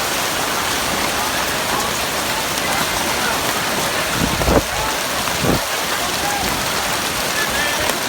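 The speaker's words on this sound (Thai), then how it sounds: "ลมพายุเข้าตอนในงานเลยเนาะ" Steady heavy rain and storm wind roar throughout an outdoor Tai Dam community festival in 2018, with a couple of brief louder gusts or clatters midway and faint voices buried under the downpour.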